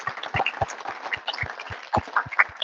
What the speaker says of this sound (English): Big round of applause for Ross.